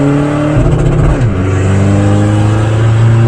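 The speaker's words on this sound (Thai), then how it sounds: "เปลี่ยนให้พี่เจ้าของรถขับนะครับ ปรับเกียร์ไม่ต้องยกคันเร่ง" Tuned Isuzu 1.9 DDI Blue Power diesel accelerates hard with a remapped ECU, its loud engine note rising, dipping briefly at a flat-foot gear shift near the middle, then climbing again.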